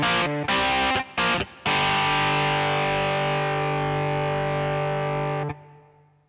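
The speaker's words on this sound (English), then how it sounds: "So this is the heavy distorted guitar sound" A Yamaha PSR S975 keyboard plays its heavy distorted rock guitar voice: a few short choppy stabs, then one long buzzing held chord that rings for several seconds before cutting off, loud and alone.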